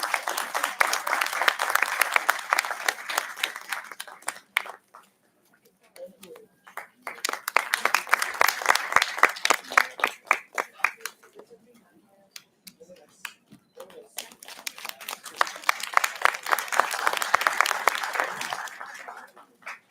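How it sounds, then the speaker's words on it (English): A ceremony audience gives three long, loud rounds of applause, dense clapping that swells, fades and returns in waves close by. "May we please have a huge round of applause."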